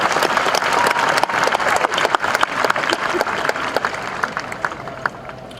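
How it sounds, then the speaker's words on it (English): A large commencement crowd at Stony Brook University applauds its graduates, loud dense clapping with sharp individual claps standing out, gradually tapering off near the end. "One more round of applause, please, for all of these outstanding graduates."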